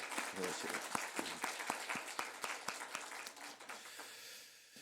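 A church congregation clapping for the choir during a service, a steady run of sharp claps with some voices mixed in, tapering off near the end.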